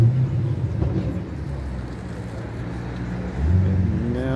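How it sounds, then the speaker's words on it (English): Cars starting and pulling away at a car club cruise-in in Denville, NJ: a steady low engine rumble and idling from several vehicles, swelling louder near the end as one revs up close by. "And now the cars are all starting to get and leave."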